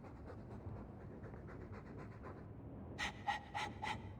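Quick, rhythmic dog panting close up in Dragon Age II, joined near the end by a few brighter, sharper breathy huffs.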